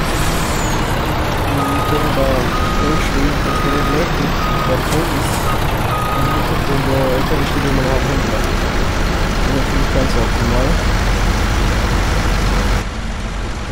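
Heavy Tatra truck in Farming Simulator 19, engine droning steadily with reversing beeps and traffic-like rumble throughout, while someone talks over it.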